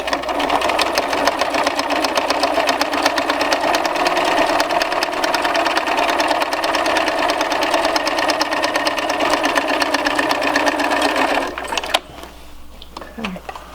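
A sewing machine runs steadily for about eleven seconds, stitching an eighth-inch seam along the edge of a cloth face mask with an air filter, then stops abruptly, leaving quiet room noise.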